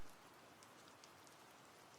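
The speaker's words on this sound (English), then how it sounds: "listening to the distant rain humming through the pipes" Soft, steady distant rain hisses evenly and faintly throughout, with a few faint drip-like ticks, heard alone as a muted background wash.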